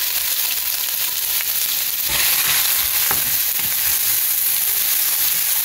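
Finely chopped onions sizzle in hot oil in a pan, a loud, steady crackling fry with a brief surge as more onions go in and occasional stirring scrapes.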